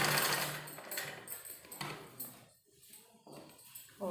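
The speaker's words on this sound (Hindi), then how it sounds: "इसको फिर इसी तरह से हम यहाँ पर भी सिलाई लगाते हुए" A sewing machine stitches a trouser seam, close and fairly loud, with a fluctuating mechanical whir that dips and surges over a few seconds.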